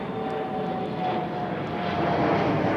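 Fixed-wing airliner engines at Toronto Pearson Airport on a morning, a steady broad roar held at a distance with no voices, swelling slightly toward the end.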